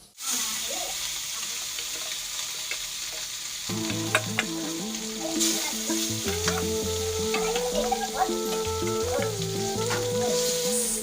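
Fish frying in a pan at home, a steady loud sizzle running throughout with stirring and clinks, and some tonal sounds layered on top from about four seconds in.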